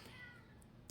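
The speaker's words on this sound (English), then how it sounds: "That's the cat, so sorry about that." A cat gives a short, faint meow in a quiet indoor room, brief and soft against low background noise.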